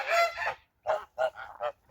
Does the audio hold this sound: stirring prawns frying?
no